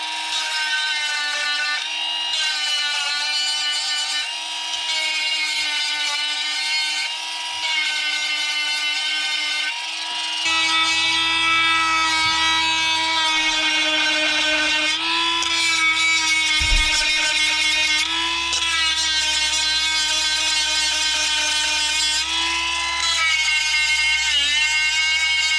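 An electric chainsaw sharpener grinds the teeth of a chainsaw chain, whining in short, repeated high-pitched passes, with a lower motor hum joining partway through.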